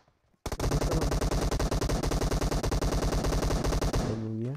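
Rapid sustained M4 automatic gunfire in a battle royale video game, loud and close, a dense rattling burst lasting several seconds before cutting off into a ringing tail.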